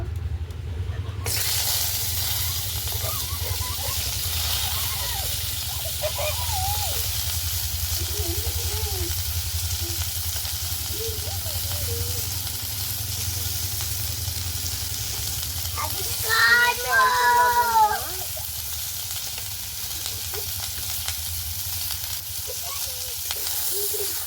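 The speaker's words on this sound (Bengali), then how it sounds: "ওই তেলেতে আমি সিমগুলো ভেজে নেব।" Flat beans fry in hot oil in a pan, with a constant close sizzle and hiss across the whole stretch. A voice speaks briefly partway through.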